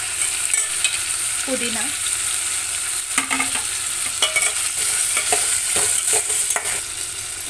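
Tomatoes and ginger paste sizzling in a pan while a spoon stirs and scrapes, steady frying hiss with repeated clatter of stirring close by.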